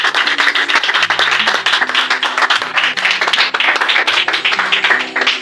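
A church congregation in Japoma, Douala, applauds during a revival service, dense sustained clapping filling the room with a steady low musical tone underneath, loud and close throughout.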